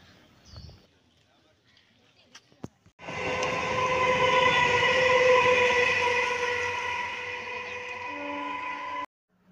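A train pulls through a railway station, starting with a sudden loud rumble and a sustained horn-like tonal drone, after quieter clicks and a brief voice at the start.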